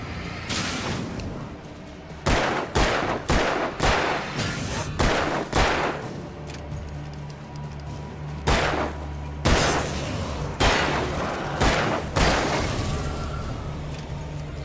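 Loud, booming shotgun blasts in Alan Wake, fired close in quick pairs and small clusters with short gaps between them, over a low rumbling game ambience.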